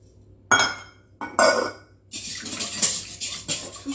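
Olive oil, milk and eggs being mixed in a bowl: a few bright clinks of utensil on the dish, then steady scraping and stirring, close and moderately loud, with no talking.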